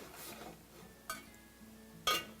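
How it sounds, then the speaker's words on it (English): A metal lid goes onto a pot of cooking paella with two quick clanks, the second louder and ringing briefly over a faint simmer. "we will put the lid on our pot"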